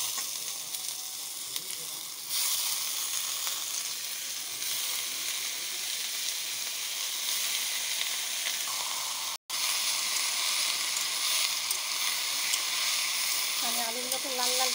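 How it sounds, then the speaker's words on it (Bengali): Potatoes and onions fry together in a pan, giving a dense, steady sizzle that drops out for a brief moment and then resumes. "আলু পেঁয়াজ একসাথেই ভাজা হবে।"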